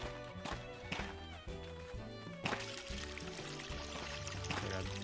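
Watering crops in the Re:Legend video game: a pouring, splashing water effect repeats over steady game music, fairly loud and close, with no talk.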